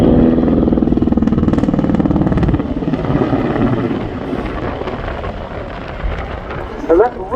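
A Czech Sokol helicopter in camouflage flies at the RIAT airshow, its rotor and engine giving a loud, steady, throbbing roar that stays close and continuous throughout, easing slightly toward the end.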